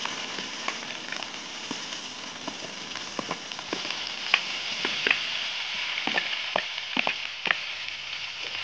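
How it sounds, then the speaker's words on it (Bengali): Chopped onion and green chilli fry in hot oil with nigella seeds and whole spices for a fish jhal, a steady close sizzle with scattered crackles and pops throughout, no voices. "এটাকে তেলের ওপর দিয়ে একটু ভাজবো"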